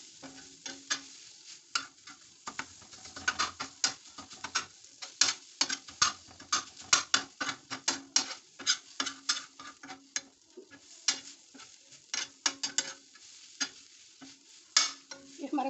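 A spatula scrapes rhythmically through onion-tomato masala with green chillies in a pan, making quick repeated clacks and scrapes over a faint sizzle, close and steady.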